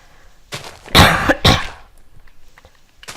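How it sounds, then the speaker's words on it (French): A person coughs a few times up close while playing Minecraft, two harsh loud coughs after a softer one, then quiet. "Bon, désolé si je tousse, hein."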